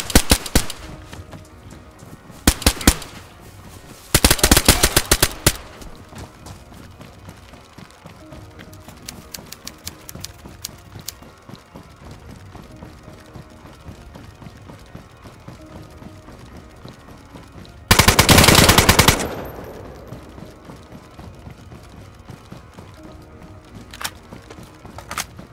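Bursts of gunfire in the survival video game DayZ Standalone, a few loud rapid volleys separated by long stretches of steady background noise, with players talking now and then.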